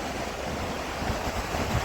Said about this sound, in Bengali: হাওয়া দিচ্ছে আর ওই দূরে ঢেউ